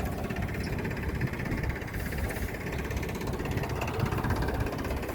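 A tractor engine idles steadily at a wheat threshing site on a farm, a continuous, fairly loud rumbling drone with mechanical vibration and no voices over it.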